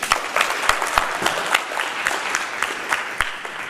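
An audience claps steadily throughout at a motivational talk, a dense, fairly loud patter of many hands with a few sharper individual claps standing out.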